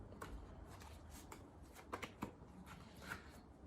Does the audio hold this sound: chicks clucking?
no